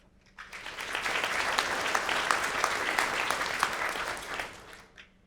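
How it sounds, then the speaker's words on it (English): An audience at the Creative Innovation 2019 Asia Pacific conference bursts into steady applause that swells, holds for several seconds, then fades out. "Give them a round of applause."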